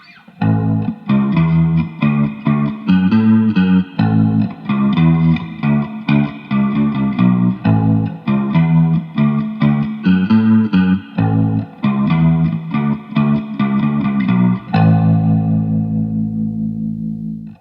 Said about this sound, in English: And here's mode 2 on the June 60 chorus pedal.